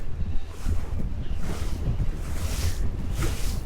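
Heavy wind buffets the microphone by a lakeshore in Masuria, Poland, in a constant low rumble with gusty surges, no voices heard.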